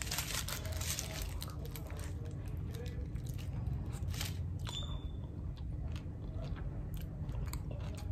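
Someone chews a snack containing paneer and made with maida close to the microphone, with repeated crunchy bites and wet mastication throughout.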